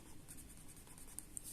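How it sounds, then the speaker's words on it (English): A pen scratches quietly across paper, outlining and colouring in the squares of a fox cross-stitch pattern. The soft, steady strokes are close and faint, with a couple of sharper ticks near the end. "I have to outline it first before my pen's running out, before I shade it"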